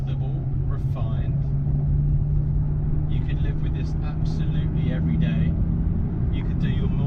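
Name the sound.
Ferrari FF V12 driving at low revs in fifth gear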